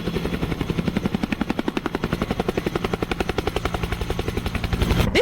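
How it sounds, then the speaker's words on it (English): An Indian Light Utility Helicopter prototype's rotor chops rapidly and steadily, loud and close, the pulsing roar swelling slightly toward the end; no speech. "This roaring light utility helicopter prototype"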